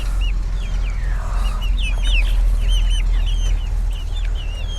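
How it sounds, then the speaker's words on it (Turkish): Chickens cluck and chicks peep in a busy chorus of short chirps, fairly close, over a steady low background hum. "bunlar kendi yetiştirdiğimiz civcivlerimiz"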